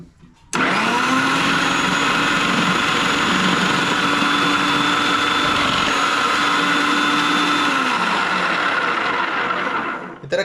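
Kitchen slicer cutting carrot slices, a loud continuous whirring mechanical drone that starts abruptly and runs steadily for about ten seconds before stopping.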